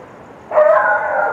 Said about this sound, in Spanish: Y los perros siguen ladrando,